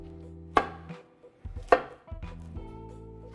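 A knife chops through cauliflower stems on a cutting board, two sharp near cuts with softer knocks and scraping between them, no talk.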